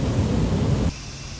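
Heavy rain pours during a thunderstorm, with a loud, dense rumbling wash that suddenly drops to a quieter steady patter partway through. No voices are heard.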